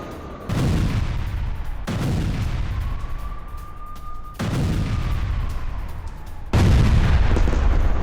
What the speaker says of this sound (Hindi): गाजा में रात भर धमाकों की गूंज सुनाई दी।